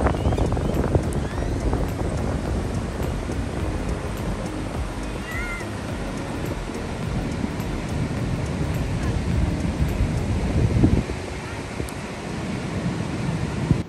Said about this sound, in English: but it's extremely, extremely windy.